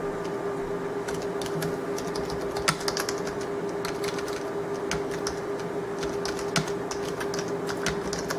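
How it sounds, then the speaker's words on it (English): Steady keyboard typing with rapid irregular key clicks over a constant background hum, no voices. "I'm just kind of typing in here"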